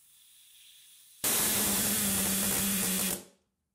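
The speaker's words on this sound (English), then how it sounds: "somewhere around 60 psi, that valve should go off" A boiler's safety valve pops open on compressor air pressure, near 60 psi, giving a sudden loud, steady hiss that blasts for about two seconds, then cuts off sharply. A faint hum of the compressed-air setup runs before it.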